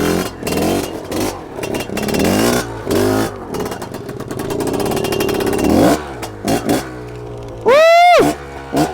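A buzzy two-stroke engine on a Fantic twin-shock trials motorcycle putters and revs in first gear, rising in short blips, with a sharp rising whine near the end.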